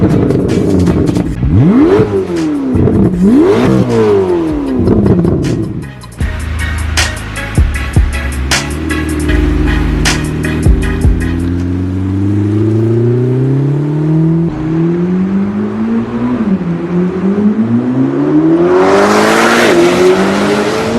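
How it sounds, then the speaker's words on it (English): Corvette twin turbo LT7 V8 engine revving hard, loud and close through rising gear pulls and shifts, with a rushing burst at the end. "let's just take a listen to the all new bliss of the proper twin turbo V8."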